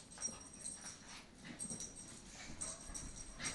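Two dogs romping together, a small one around ten pounds and a big one around 120, with soft whimpers, yips and panting scuffles that rise and fall in quick bursts at close range.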